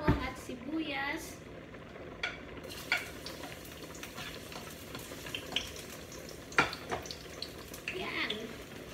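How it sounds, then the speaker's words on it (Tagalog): Garlic and onion are sautéed in a pan, a soft sizzle broken by occasional clinks and scrapes of a utensil, under a person talking. "Gigisa ko lang guys yung ating bawang sibuyas."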